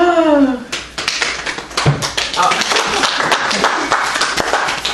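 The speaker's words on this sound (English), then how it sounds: "Everybody clap your hands." Audience clapping hands together at a live event, a dense run of claps building after a sung or voiced opening, steady and fairly loud through the crowd noise.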